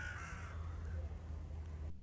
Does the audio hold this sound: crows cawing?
yes